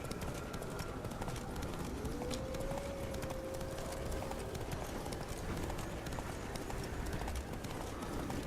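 Geralt's horse gallops in The Witcher 3, a quiet, steady run of hoofbeats under a continuous ambient wash, with a brief tonal sound partway through.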